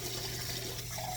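Water pours steadily into thick stock while rice is being prepared, a continuous close splashing and running sound with a low hum beneath it.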